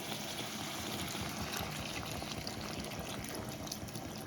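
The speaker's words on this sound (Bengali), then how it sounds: "তো এবার আমি জল দিয়ে দেবো পরিমাণ মতো।" Water is poured into a simmering Bengali-style koi fish curry, producing a soft, steady stream of watery noise that stays faint and even throughout.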